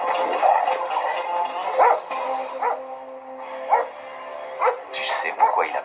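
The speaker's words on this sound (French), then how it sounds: "Tu sais pourquoi il aboie?" A dog barks in short bursts close by, with voices talking over and around the barks throughout.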